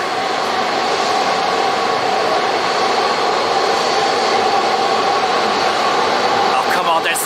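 A departing airliner on the Shanghai flight at Zurich Airport produces a constant, loud, broadband engine roar that holds steady throughout, with a faint rising whine near the end.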